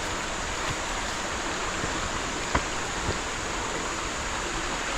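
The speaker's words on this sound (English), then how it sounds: "let's go look at the brook itself." A brook flowing through woods near an old bridge in Connecticut, heard as a steady, broadband rush and trickle of running water, alone and constant throughout, with a couple of faint knocks.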